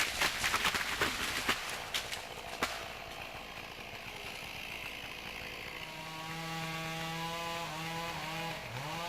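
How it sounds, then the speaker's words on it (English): Sharp woody cracks and snaps at first, then a chainsaw's engine drones and revs up and down while felling maple and fir trees, moderately distant. "There is something special about the sound of a chainsaw"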